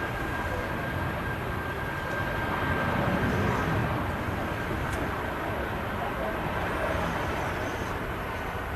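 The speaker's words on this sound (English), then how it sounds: "a great sound from this BA 319 off to London Heathrow" A British Airways Airbus A319 departs Manchester Airport for London Heathrow, a steady broad engine roar at moderate distance with a faint whine, holding level throughout.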